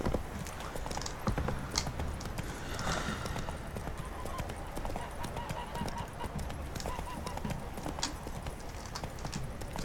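Roach the horse's hooves clip-clop in a steady walking rhythm through The Witcher 3 video game, close and clear over a low ambient bed, with an occasional soft snort and no talk.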